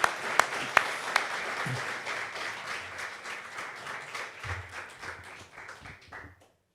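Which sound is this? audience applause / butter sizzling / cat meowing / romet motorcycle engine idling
audience applause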